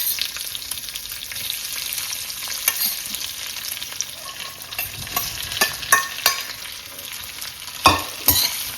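Dudhi-methi muthiya fry in a hot pan with curry leaves and a pinch of asafoetida, a continuous close sizzle broken by spatula scrapes and knocks that grow louder toward the end.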